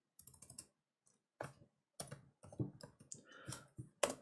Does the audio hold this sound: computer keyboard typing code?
yes